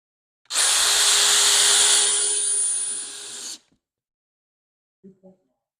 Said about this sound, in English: here's our Dewalt